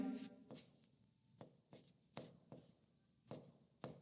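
Chalk or marker strokes on a classroom board in short separate bursts, quiet and close, with a teacher's voice heard briefly at the start.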